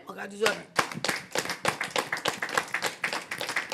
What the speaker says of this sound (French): c'est Pamela qui nous applaudit